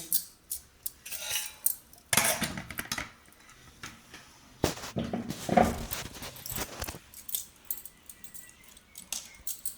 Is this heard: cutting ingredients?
yes